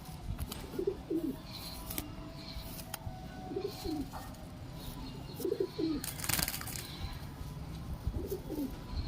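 Several soft, low coos from loft pigeons with clipped wings repeat in short bursts over steady background noise, with a brief flutter of wings partway through.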